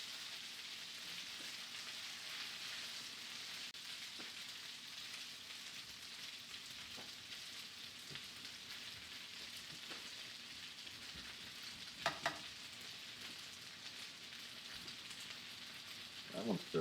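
Beef tips fry in a pan with a quiet, steady hiss and occasional faint crackles, plus a few sharp clinks of a utensil near the end, with no one talking.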